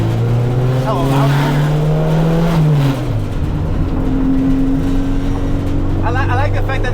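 A 1992 turbocharged Honda Civic EG engine drones loudly and steadily from inside the moving car, its pitch rising then dropping as it shifts, with brief voices over the engine noise.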